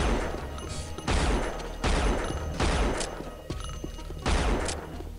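Pistol shots ring out in the first-person shooter Unreal, several loud sharp reports at irregular intervals, each with a booming tail in a large open arena, with no talk.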